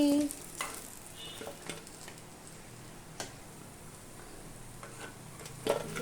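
Brinjal (eggplant) bajji fry in hot oil with a quiet, continuous bubbling sizzle, broken by occasional soft clicks and utensil taps.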